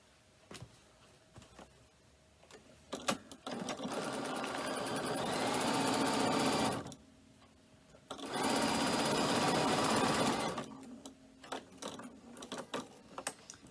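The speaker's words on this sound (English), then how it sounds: "place it right sides together and stitch across the top" A sewing machine stitches across the top of a cork messenger bag lining in two sustained runs of fast whirring, with short pauses and small clicks of handling between them.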